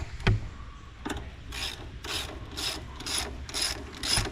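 A hand ratchet clicks in short bursts while loosening bolts on an Ingersoll Rand air compressor during a teardown, with a couple of sharp knocks first, then six or so rhythmic ratcheting pulls, close and fairly quiet.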